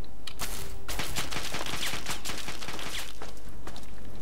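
Gunfire aimed at the player in Fallout 3, a fast volley of sharp shots crackling in quick succession, fairly loud with a faint hum behind it and no talk.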